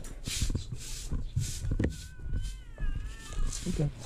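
A cat meows several times close by, short rising cries between bursts of people talking in the background outdoors.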